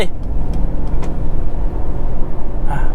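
A 2022 Mercedes-Benz CLS 220d AMG Premium diesel pulls hard in sport mode to overtake, heard from inside as a loud, steady low engine drone with road rumble.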